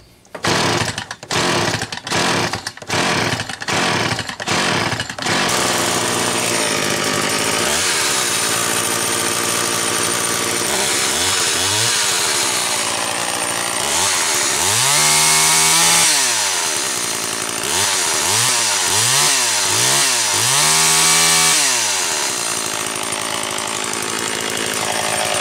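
1973 Homelite 150 Automatic chainsaw, recently worked on at the carburetor, heard close up: a few rapid pull-start strokes, then the engine catches and runs, idling roughly before revving up and down several times.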